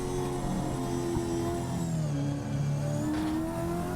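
A 1963 Ford Cortina race car engine roars at high revs at Bathurst, a steady loud drone with shifting pitch as the car climbs and drops down the hill, heard alone from on board.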